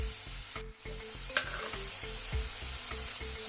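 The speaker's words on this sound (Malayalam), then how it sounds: "ഇഞ്ചി വെളുത്തുള്ളി പേസ്റ്റ് ആഡ് ചെയ്യണം" Ginger garlic paste sizzles steadily in a hot oiled pan while Kerala-style fish curry is cooked. Up close, the frying hiss runs with occasional stirring scrapes over a low, pulsing stove hum.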